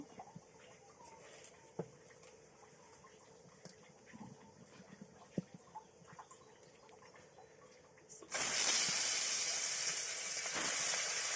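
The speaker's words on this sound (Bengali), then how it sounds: "এক এক করে আমি সবগুলো মাছ দিয়ে দেবো ভেজে নেওয়ার জন্য" Sea poa fish dropped into hot oil in a heated wok set off a sudden loud, steady hissing sizzle near the end, following a stretch of quiet kitchen background with small clicks.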